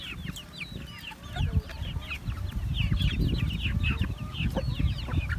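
Chickens cluck and chatter close by on a backyard farm, several birds overlapping, over a low rustling background.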